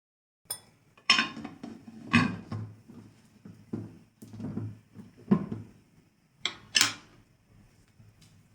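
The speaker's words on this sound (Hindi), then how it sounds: "अब 10 मिनट के लिए हम कुकर को बंद करके इसको प्रेशर कुकर में पका लेंगे।" Metal kitchenware clanks and clatters in a series of sharp knocks and scrapes as a pressure cooker lid is closed and pots are handled, with short pauses between.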